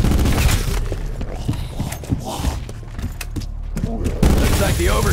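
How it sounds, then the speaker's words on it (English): Gunfire in Call of Duty: Black Ops 4 during a Classified zombies round, with loud bursts of shots and booms in rapid clusters among game noise and a voice talking over it. "I'll just pull the trigger and see what happens"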